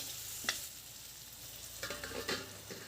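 Water spinach curry with potatoes fries in a pan over a low gas flame, a soft continuous sizzle broken by a few clattering stirs with a utensil.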